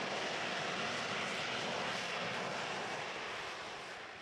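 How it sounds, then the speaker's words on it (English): A steady, loud roar of a Harrier jump jet's engine fills the whole stretch, a continuous broadband rush that fades slightly toward the end as it passes. "Harrier jump jet, can take off and land vertically, just like a helicopter"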